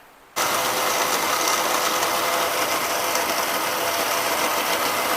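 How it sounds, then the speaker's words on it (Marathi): An electric mixer grinder grinds roasted chickpeas, gram dal, rice and coriander, starting abruptly after a brief quiet moment and then running as a loud, steady, close-up roar without any voices. "हे दोन्ही वाटणात आपल्याला बारीक करून घ्यायचे. चला बारीक करून घेऊ."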